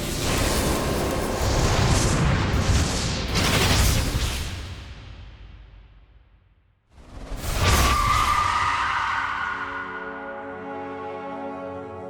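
An armored vehicle speeds toward a barricade in a dramatic effects sequence: loud roaring rushes and impact-like bursts, a sharp drop to near silence, then another big crash swell fading into a lingering ringing tail.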